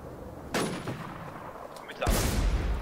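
Two loud, sharp gunshots go off in the survival shooter Infestation The New Z, with an M107 rifle in play. The first is followed by a short reverberant tail and the second is heavier and sustained, over a low background hum.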